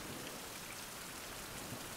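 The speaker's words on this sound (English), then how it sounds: "It is raining again." Steady, dense rain falls in the survival video game Survival: Fountain Of Youth, a continuous hiss of drops with no breaks and no talking.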